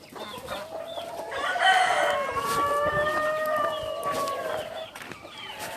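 Chickens cluck steadily on a Turkish poultry farm while a rooster crows with long rising calls, the flock loud and close, filling the whole stretch without talk.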